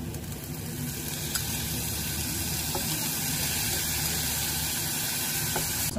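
Pork with spicy bagoong sautés in a pan with garlic, onion, ginger, chili and pork fat, making a dense, continuous close sizzle with faint stirring scrapes.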